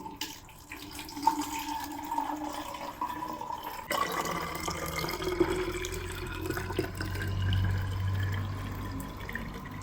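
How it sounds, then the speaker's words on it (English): Cherry broth is poured through a filter, trickling and dripping steadily like water running into a sink, with a continuous close liquid flow and no talking. "I filter the cherry broth"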